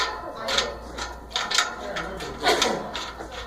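Close, rattly metallic clicks from a wrench snugging a bolt on a Roll-A-Ramp handrail bracket, in short uneven bursts with pauses between them.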